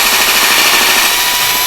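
A drill spins steadily while boring holes centered on a countersink, a continuous loud grinding whir with no pauses and no talk.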